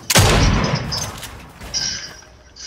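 A loud close gunshot in Fortnite, its blast decaying over a second, followed by fainter crackling game effects.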